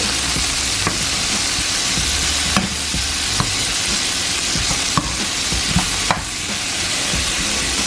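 Shrimp fry in a pan with a steady loud sizzle, broken by several sharp clacks and scrapes as they are flipped at irregular intervals, with no talking.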